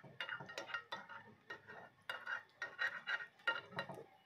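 Eggs being whisked with a utensil in a bowl to coat macaroni before frying, giving repeated quick clinking and scraping strokes in short bursts, close and fairly quiet, with no talk.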